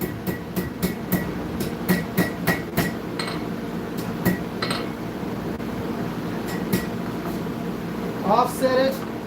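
A turning hammer strikes hot metal on an anvil in a forging workshop. Sharp, ringing blows fall in a quick uneven rhythm, then pause and resume more sparsely, with a brief metallic scrape near the end.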